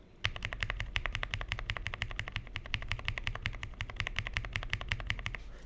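Steady, rapid typing on a mechanical keyboard with Akko Bittersweet switches, crisp clacky keystrokes in a dense even rhythm, close up with no talking.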